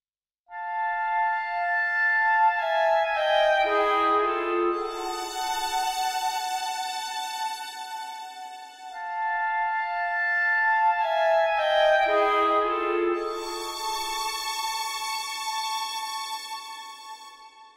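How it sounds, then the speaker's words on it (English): Muted violins from the Spitfire Con Sordino studio strings library play sustained, overlapping harmonic lines in two long swelling phrases, soft and airy with no other sounds or voices. "I'm using the Consordino studio strings, and they sound like this."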